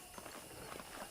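Horse hooves clip-clop faintly in Red Dead Redemption, a short run of soft, evenly spaced hoofbeats in the background with no talk.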